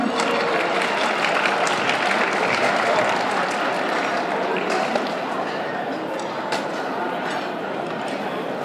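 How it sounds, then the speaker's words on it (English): Sustained applause from an audience at an awards ceremony, steady and dense throughout, with some voices mixed in the crowd noise. "Can we give them another round of applause"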